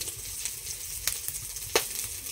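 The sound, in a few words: oil poured into hot wok for cooking chicken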